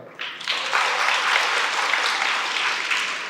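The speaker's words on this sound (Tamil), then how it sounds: "கைத்தட்ட வேண்டாமா" An audience bursts into applause that starts abruptly and continues as steady, dense clapping, fairly close and sustained to the end.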